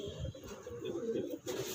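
A long-bodied pigeon of an old topidar breed coos in a short, close, soft burst, with people talking over it.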